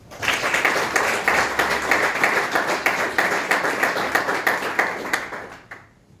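Sustained applause from an audience at a military graduation ceremony honoring an Air Force airman, dense steady clapping for about five seconds before tapering off.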